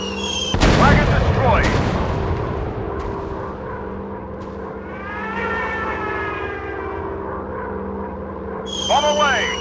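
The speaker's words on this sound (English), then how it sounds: "Dropping bombs." Bombs dropped from a warplane in an online air-combat game, heard as a loud deep blast at the start with a second thud, followed by a sustained rumbling engine drone and a rising siren-like tone near the end.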